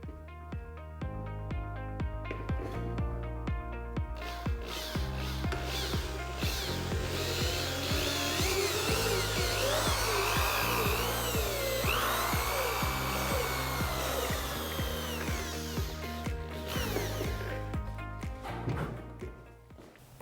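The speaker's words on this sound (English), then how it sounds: "start kind of at an angle like this and drill our pilot hole" A power drill bores a pilot hole at an angle into a helmet, whirring steadily with short bursts and pauses as the bit bites and stops.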